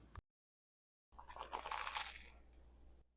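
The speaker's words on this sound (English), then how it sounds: "The bread is crunchy." A single crunchy bite into a faux lobster roll on a toasted hot dog bun, close and loud, with crisp bread crackling and chewing after a brief silence.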